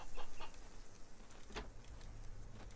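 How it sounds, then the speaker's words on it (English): Chicken clucking in the farming video game Farmer's Dynasty: a few soft, short clucks, faint and somewhat distant over a steady background hum, with no talking. "Wait, what are you? You're a chicken."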